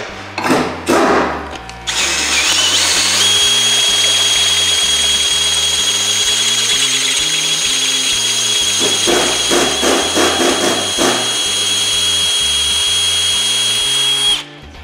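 A power drill with a 3/8 bit boring out a seized lug nut stud, a steady loud whine held for over ten seconds, with short bursts at the start and a brief stutter near the end.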